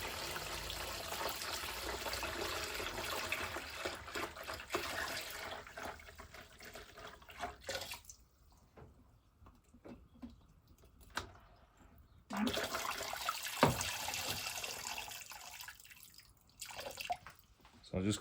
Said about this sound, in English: So I'm just going to fill my tub up again.